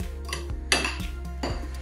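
A spoon clinks and scrapes against a bowl while mixing a dressing with pepper flakes, several sharp metallic knocks over a low steady hum, no voices.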